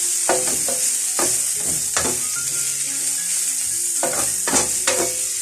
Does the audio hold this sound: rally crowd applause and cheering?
no